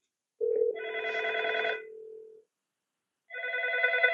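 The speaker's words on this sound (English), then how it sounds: "Or we can initiate a call from the door phones to the screen." A Fanvil A12 intercom door phone at a weigh-scale and gate installation rings through to the screen: two loud electronic ring-tone bursts, clear and alone, separated by a short silent gap.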